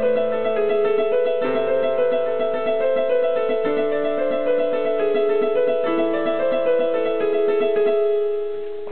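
An organ plays a sinister, evil-sounding tune at full tempo, sustained chords and a moving melody filling the whole stretch loudly and continuously with no talking.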